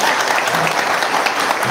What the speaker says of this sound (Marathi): त्याला जोरात टाळ्या वाजवा सांगतो.